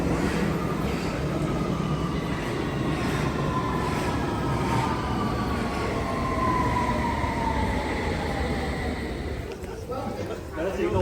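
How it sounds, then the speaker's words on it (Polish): A London Underground train pulls into the Tower Hill station platform with a loud rushing rumble and a rising-falling metallic whine over about eleven seconds, the roar steady and close throughout. "Nadjeżdża nasza metro."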